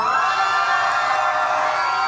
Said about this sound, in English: I don't know why you scream so much.